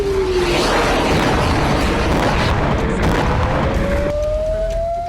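A dense roaring rumble from an Iranian ballistic missile strike on Israel fills the whole clip at a constant high level, with a rising siren-like whine running through it and no talk.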